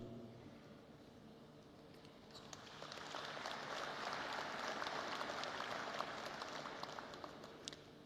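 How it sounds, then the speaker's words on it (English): Audience applause fills a large hall at a genocide commemoration, swelling from about the two-second mark into sustained, dense clapping that holds steady to the end. "and we applaud you."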